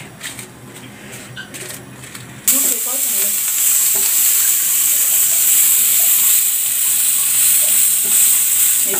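Green chilies with salt frying in hot oil in a pan while being stirred, a loud steady sizzle that starts abruptly and holds, with faint stirring scrapes and no speech.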